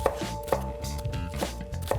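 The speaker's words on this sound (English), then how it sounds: "With our green onions, we have to cut them at a little bit of an angle" A knife chopping green onions at an angle on a cutting board, four crisp evenly spaced taps with a soft rhythmic background, close and clear with no talk.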